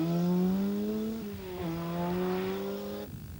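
A four-wheel drive rally car howls along tarmac lanes, its engine note holding high and steady, dipping briefly at two gear changes, then cutting off sharply near the end.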